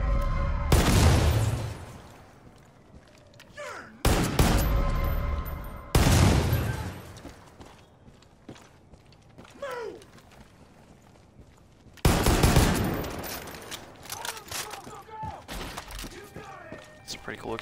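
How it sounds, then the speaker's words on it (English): Explosions and gunfire in the video game Far Cry 5: several sharp, loud bursts of blasts and shots, each trailing into rumbling debris and crackle, with a fresh heavy blast near the end, all without speech. "It's a pretty cool explosion, though."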